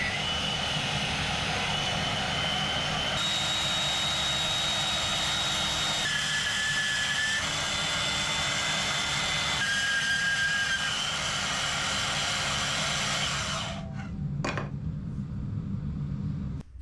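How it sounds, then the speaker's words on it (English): A bandsaw cutting through a big, chunky piece of steel gives a loud, steady roaring whine with a faint high ringing tone. It runs for about fourteen seconds, then drops away into a few quiet clicks over a lower hum. "The bandsaw actually cut through a lot easier than the lop saw"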